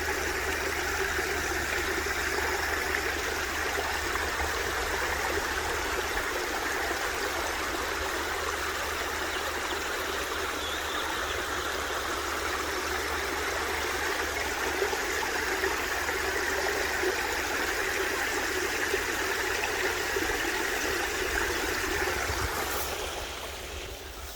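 A stream's rushing water fills a remote natural setting, a steady loud broadband roar that continues without a break for the whole span, with no voices over it.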